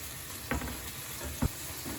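Skippy fish fillets frying in a pan give a steady soft sizzle, with two brief louder clicks or stirs over the quiet hiss.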